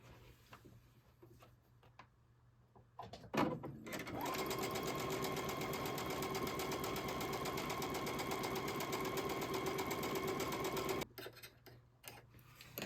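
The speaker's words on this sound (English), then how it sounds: "we're going to sew those together with a 1/4 inch seam" A sewing machine sews half rectangle triangles with a quarter-inch seam: a steady, fast mechanical whir and rapid needle ticking that starts abruptly, runs for about seven seconds, then stops.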